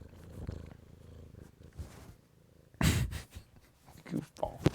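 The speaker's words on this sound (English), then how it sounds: "Yeah, she's purring." A domestic cat purrs close by in a low, rumbling rhythmic drone, with a louder burst partway through and some background talk and noise around it.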